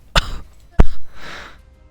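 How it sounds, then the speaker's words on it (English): Two sharp, close coughs a moment apart, followed by a soft breathy exhale, in the video game Battle for Wesnoth. "Cough, cough."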